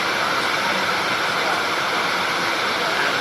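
Water rushes in a loud, unbroken roar from the opened spillway floodgates of a dam, a dense, steady torrent with no pauses.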